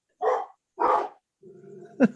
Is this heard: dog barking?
yes